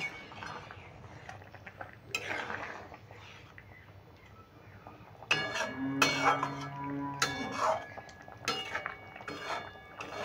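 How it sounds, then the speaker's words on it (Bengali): A metal spatula stirs jackfruit seed dhoka in a pan, giving a few close scraping and clinking strokes against the metal after a quieter stretch. "এবার একটু খুন্তি করে নেড়ে দেবো।"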